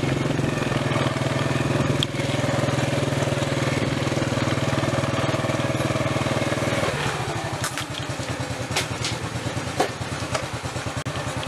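A motorcycle engine runs steadily nearby with a smooth, droning hum, then shifts to a lower, rougher, pulsing throb partway through, with a few sharp clicks along the way and no talking.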